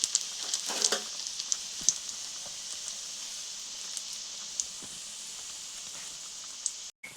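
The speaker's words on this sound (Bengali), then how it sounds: "এগুলি লাল লাল করে ভেজে নেব চারিদিকটি ভালো করে" Vegetable chops deep-frying in hot oil, a steady soft bubbling sizzle with scattered small pops and crackles, fairly quiet and continuous with no talking.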